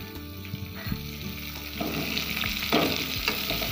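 Chopped onion added to garlic frying in oil for a kolmi saag dish, a dense sizzling hiss that swells as the onion hits the pan, with occasional stirring scrapes, close and steady, no voices.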